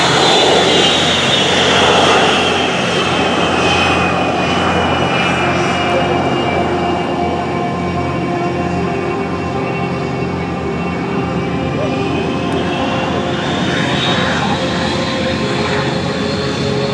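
An aircraft engine roars steadily at the 2022 Air & Space Expo at Joint Base Andrews. The sound is loud and sustained, with a whining tone that slowly dips and rises over the continuous rumble.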